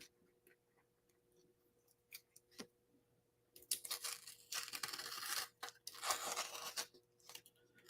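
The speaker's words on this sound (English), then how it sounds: "See how everything is just ripping." Cardstock being torn during a craft session, quiet clicks and taps at first, then two long, close ripping stretches with short pauses between them.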